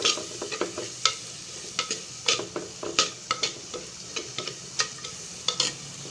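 Bitter gourd, small turkey berries and other vegetables sautéing in a pan, with repeated sharp scrapes and clacks of a spatula stirring over a soft background sizzle, close and fairly loud with no talking.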